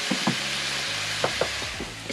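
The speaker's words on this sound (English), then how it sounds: "we'll cook the fish sauce down and let that caramelize a little bit" Fish sauce sizzles and caramelizes in a pan, a loud close frying hiss with a few stirring scrapes, and no one speaks over it.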